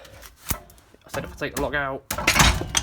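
A Peugeot 306 rear torsion bar drops hard after a log is pulled out from under it, giving a sharp thud and then a loud metallic clatter and jangle, with a voice talking between the sounds.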